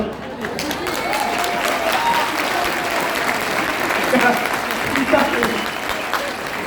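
An audience at a direct-selling motivational seminar in India claps steadily for several seconds, a loud continuous patter with a voice audible over it.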